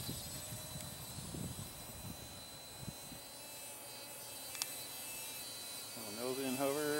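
Blade Nano QX quadcopter drone flying outdoors makes a thin, high whine that holds steady at a distance, with a person talking now and then and a brief rising tone near the end.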